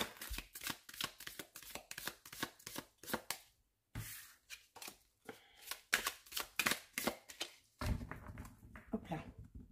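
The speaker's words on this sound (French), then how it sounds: "On va effectuer un petit tirage avec d'abord l'oracle des Météores." Oracle cards for a reading are shuffled by hand, producing a quiet, rhythmic series of soft riffling slaps with a short pause midway.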